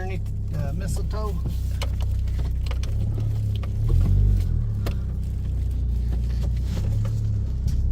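A Chevy Malibu with a newly replaced starter drives along, its steady engine hum and low road rumble continuous throughout, swelling briefly midway, while people chat inside the car.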